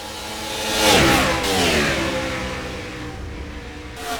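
Stock car engine in the NR2003 racing sim, the number 10 car coming out of turn 4 on an oval track, revving loudly and pitching down as it passes, then holding a steady drone, no voices.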